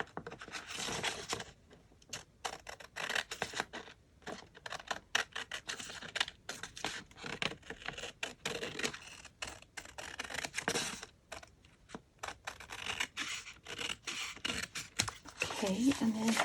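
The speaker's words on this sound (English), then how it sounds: "I'll just use my scissors." Paper cut with scissors at a craft table while making a junk journal folio, a rapid run of close, crisp snips and rustles, with a person talking over it.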